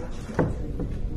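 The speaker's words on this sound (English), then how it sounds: "I heard that door bang." A door in an old mansion bangs shut once, a single short thud with a faint second knock after it, set against a steady low room rumble with no speech.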